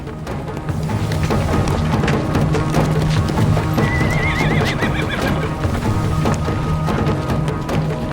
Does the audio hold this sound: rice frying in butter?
no